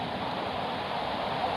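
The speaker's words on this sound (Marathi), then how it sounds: "त्याच्या साईडला बघा कसले आहेत 2 धबधबे" Twin waterfalls pour beside the Baronda Devi temple in monsoon rain, heard as a constant broad rush of falling water, steady and unbroken across the short moment.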